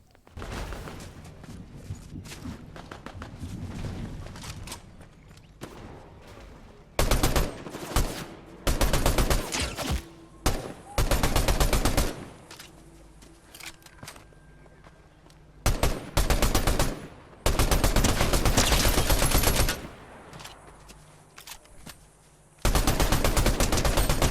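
Gunfire in Fortnite rattles in loud repeated bursts of rapid automatic shots, separated by quieter gaps with a low background hum, close and dominant throughout.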